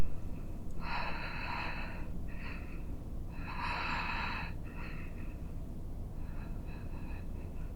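Deep breathing during a seated yoga twist, slow rhythmic inhales and exhales repeating several times, close and breathy over a steady background hiss.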